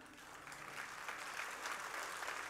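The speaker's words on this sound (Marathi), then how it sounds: "ह्या टाळ्या साध्या गाण्याला आहेत" An audience claps together after a song, a steady, dense round of applause at a moderate distance that keeps going without a break.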